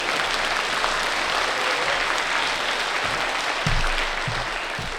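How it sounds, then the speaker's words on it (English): Steady applause from a concert audience fills the hall, a dense wash of clapping that holds evenly throughout, welcoming a young performer back to the stage at an orchestra concert. "So welcome him again with applause"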